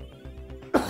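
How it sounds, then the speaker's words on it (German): A single short, sharp cough bursts out near the end during a German Let's Play of the game Fangt den Klabauter, over steady background game music. "jetzt musste ich doch wieder husten"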